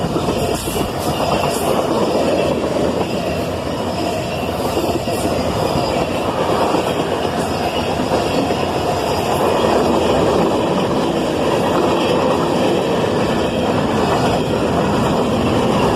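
A long Canadian Pacific and BNSF freight train hauling many tank cars rolls steadily past at close range, a continuous loud rumble with wheel clatter and faint squeals throughout.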